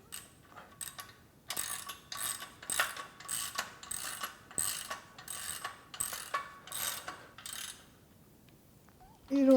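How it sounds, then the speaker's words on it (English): A ratchet wrench works a bolt on a Body Solid EXM3000 home gym, making a run of about a dozen rhythmic, close metallic clicking strokes that stop near the end, followed by a short louder sound. "Of course, I am still getting the ratchet off of this one."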